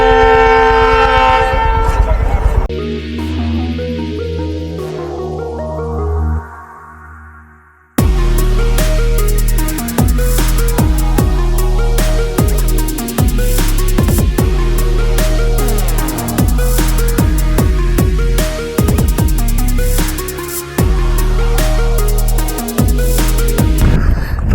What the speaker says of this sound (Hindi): लो भाई, आने लग गई लगता है कोई ट्रेन